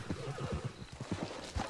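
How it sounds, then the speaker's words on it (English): A horse neighs and whinnies in a video game, a loud, close, drawn-out whinny with pulsing low snorts and shakes, heard alone with no talk. "First, I gotta get my horse."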